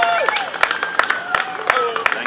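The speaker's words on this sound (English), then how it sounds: "these guys deserve a big round of applause" Scattered clapping and cheers rise from a street crowd at an Independence Day parade as uniformed flag and gun carriers pass, mixed with whistles and crowd noise, fairly close and lively.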